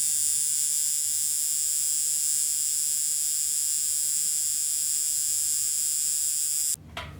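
A coil tattoo machine runs steadily while being tuned, giving a loud, continuous electric buzz with a bright high whine that holds for nearly seven seconds and then stops abruptly near the end.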